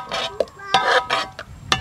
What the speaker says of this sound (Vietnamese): Đá vô ly.